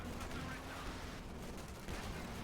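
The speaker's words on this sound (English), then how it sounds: "Light machine gun bar fire from the windows" Sustained automatic gunfire from light machine guns and BARs shooting out of house windows in a Company of Heroes 2 match, a dense continuous rattle of overlapping bursts that runs for the whole stretch with no pauses.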